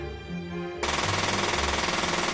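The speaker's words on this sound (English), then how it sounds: "there came the firecracker popping of a machine gun" Machine gun fire from the video game Banshee's Last Cry. It starts abruptly after a low musical drone and becomes a rapid, steady stream of loud shots that continues to the end.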